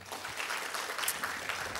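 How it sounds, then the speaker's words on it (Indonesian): Church congregation clapping during a sermon, a steady, dense wash of applause from a crowd filling the whole short moment without spoken words. "saudara berikan tepuk tangan buat Tuhan"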